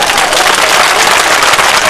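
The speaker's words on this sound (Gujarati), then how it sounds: "બે હાથ ઊંચા રાખીને જોરદાર તાળીઓ પાડો" A political rally crowd in Palanpur, Banaskantha, claps hard with hands raised, a loud, dense, continuous wash of applause from many people nearby.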